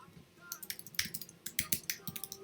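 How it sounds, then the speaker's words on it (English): Rapid, uneven clicking of keys on a computer keyboard as text is typed, a dozen or so light taps in quick irregular bursts, close and fairly quiet. "You type in your text right here"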